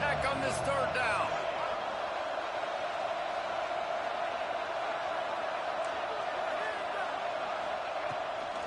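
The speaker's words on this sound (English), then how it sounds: "Guns up, and so is the noise. The crowd electric, trying to help Tech on this third down." A stadium crowd at a Texas Tech versus UCLA college football game roars steadily on a third down, a broad, continuous wash of distant noise filling the whole stretch.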